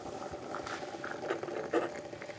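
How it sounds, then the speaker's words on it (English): Water at a rolling boil for brewing gong fu tea, a steady bubbling and gentle patter that stays close and even throughout, with no talking. "Boiling hot water"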